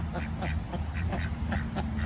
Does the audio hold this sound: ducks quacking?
yes